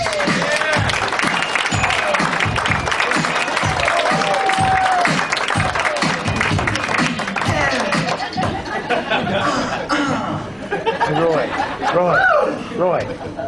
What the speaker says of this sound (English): I'd like to please put your hands together for Adam White